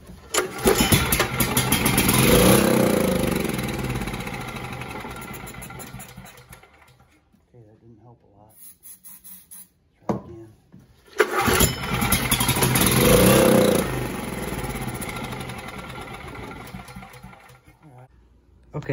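A Coleman Powermate PRO GEN 5000 portable generator under refurbishment, primed with starter fluid, fires and runs roughly for several seconds, dies, then restarts and runs again loudly and close before cutting out; it struggles to stay running.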